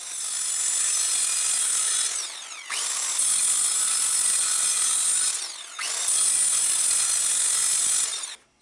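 A saw cutting aluminum stock held in a vise, a harsh, bright, continuous grinding whine in three long passes with short pauses between them, close and loud, with no talk.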